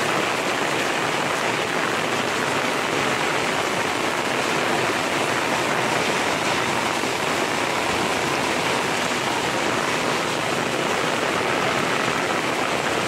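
Heavy stormy monsoon rain pours down in a dense, unbroken roar of water, loud and close, with no voices over it.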